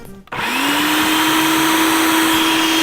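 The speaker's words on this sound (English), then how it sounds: "we'll just blend it until most of the onion is nice and really minced up small" A blender whirs into motion and runs steadily at high speed, mincing onion with olive oil for a salad dressing; the loud, constant motor whine sounds close and alone.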